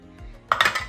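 Steel batter bowls and idli plates clink and clatter together in a few quick, bright metallic knocks, close and fairly loud after a quiet start, with a faint low hum underneath.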